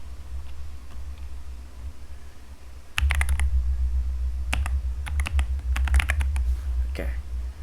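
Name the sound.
typing a password on a computer keyboard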